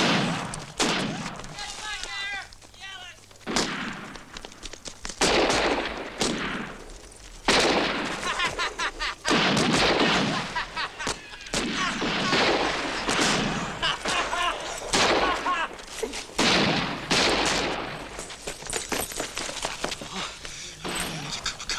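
Dense film battle audio of gunfire and rocket blasts, with rapid bursts and booming impacts repeating throughout, loud and close, with shouting voices in between.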